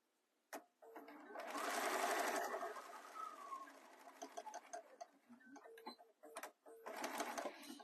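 Sewing machine stitching a phone case, with a short back stitch at the end: a steady run of needle chatter that rises, then breaks into shorter bursts and pauses before a final quick run, close and fairly quiet.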